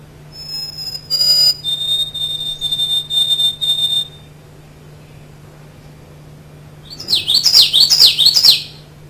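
Common yellowthroat song, a black-masked warbler, heard up close and clear: bursts of bright chirps and a held whistle, a quiet pause, then a rapid run of rolling, warbling notes over a faint steady hum.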